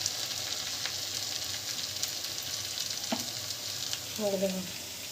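Urad dal medu vada frying in hot oil gives a constant, close crackling sizzle, with a couple of faint clinks and a brief tonal sound near the end.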